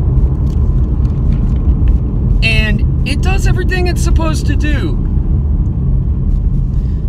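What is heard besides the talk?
2020 V6 Camaro driving on a mountain road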